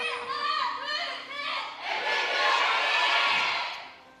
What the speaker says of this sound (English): Fans have come out in hordes down to the Nexon Arena tonight, making sure that they're cheering on their favorite teams.